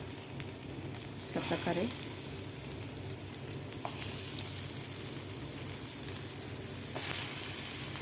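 Potato bites frying in hot oil in a pan, a steady close crackle and sizzle throughout, with a short utensil clink and a brief voice over it.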